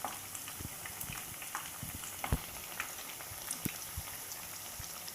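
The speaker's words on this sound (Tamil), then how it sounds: "நல்லா வடை வெந்துட்டுருக்கு." Valapoo vadai frying in hot oil over a medium flame, a faint steady crackle and sizzle with scattered small pops throughout, no talking.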